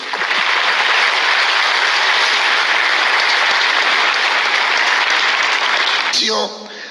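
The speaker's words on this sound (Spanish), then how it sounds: "Dar un aplauso a Dios." A church congregation applauds God during a pastor's sermon on faith and prayer, a loud, sustained wash of many hands clapping that holds steady for about six seconds before cutting off abruptly.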